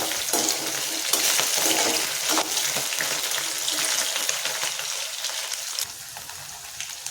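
Ivy gourd (kovakkai) pieces deep-frying in hot oil, a loud dense crackling sizzle close by that holds steadily and eases slightly toward the end.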